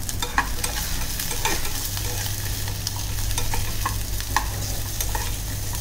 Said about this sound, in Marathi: लसूण, आलं, गरम मसाले आपण खोबऱ्याबरोबर टाकू कारण मग ते छान परतले जातील